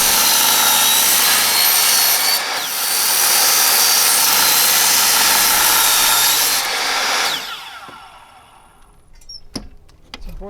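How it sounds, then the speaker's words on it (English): A saw with a fine-tooth carbide-tipped blade cuts through a door track, a loud sustained high-pitched whine for several seconds, then spins down and stops, leaving a few faint knocks and handling sounds. "important to have a fine-tooth carbide tip blade to cut through these"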